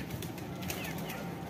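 Pigeons scuffle inside a cage, with fluttering wings, brief coos and scratchy movement close by, filling a short noisy stretch without talk.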